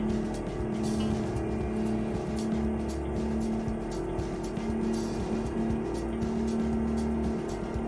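Simulated Mack truck engine droning steadily while the big rig rolls downhill and brakes in American Truck Simulator, a continuous loud hum with faint ticking and clatter on top and no talk.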